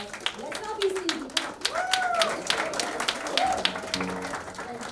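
Audience applause at a summit event, a steady crackle of many hands clapping throughout, with a voice speaking over it.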